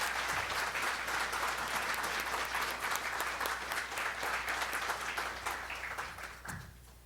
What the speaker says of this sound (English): please give all the candidates a round of applause for being here tonight